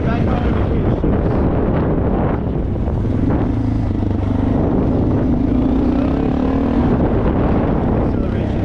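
A Suzuki DR650 with its pair valve removed accelerates hard through its gears, the engine note rising under heavy steady wind rush, with faint pops between shifts.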